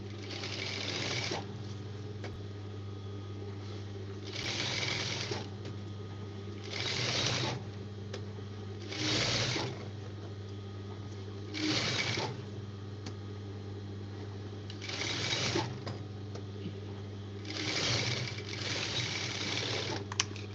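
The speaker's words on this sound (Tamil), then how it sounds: "உள்ளே சிங்கிள் தையல் மட்டும் போடும்" A sewing machine runs a single line of stitches on a cotton petticoat bodice, making about eight loud whirring bursts with short quiet gaps over a steady low motor hum. No one speaks.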